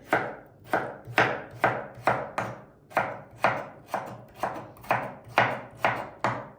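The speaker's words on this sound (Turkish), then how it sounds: "Hepsini bu şekilde doğrayalım." A knife chops steadily through potatoes on a cutting board, about a dozen crisp, evenly spaced strokes, close and clear.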